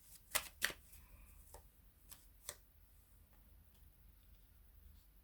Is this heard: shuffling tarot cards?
yes